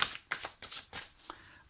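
Tarot cards being handled and drawn from a deck, a few crisp papery slaps and riffles in close succession, close and fairly quiet with no talking.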